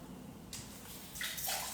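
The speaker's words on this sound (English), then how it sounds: "So just drain all the water out." Water drains from an opened package of organic firm tofu, a soft rushing trickle that starts abruptly and grows louder in splashy bursts, close by and with no talking.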